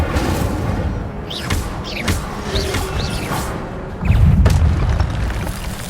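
An Incendio fire spell goes off in Hogwarts Legacy during a run of spellcasting, with whooshing magical effects and a heavy booming burst near the end over continuous game noise.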